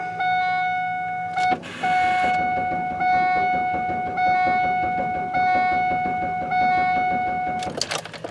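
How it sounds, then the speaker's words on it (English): A car's key-in-ignition warning chime dings over and over in a steady, evenly spaced rhythm, close and clear, with a brief clunk partway through. "I really do hate that chime."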